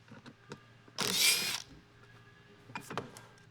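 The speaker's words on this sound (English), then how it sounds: "you want to take that last screw out there, Kyle?" A brief burst from a power tool, likely a drill, removes the last screw from a big-block engine part, with small mechanical clicks and handling noises around it.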